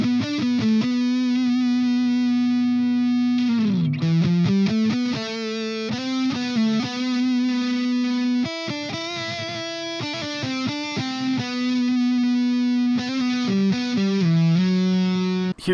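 A Fender 75th Anniversary Mexican-made Stratocaster electric guitar plays a distorted, effects-laden riff with sustained notes, string bends and quick runs, loud and continuous, with no talking.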